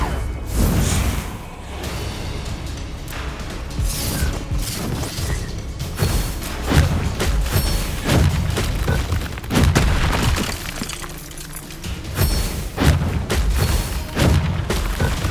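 Repeated booming blasts and crashes from the Confringo explosive spell in Hogwarts Legacy, fired during a duel, loud and close, with whooshes and thuds between the bursts.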